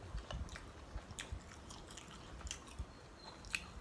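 Close, quiet chewing and biting while eating sour bamboo shoot curry with catfish, soft wet crunches and clicks repeating irregularly with no talk.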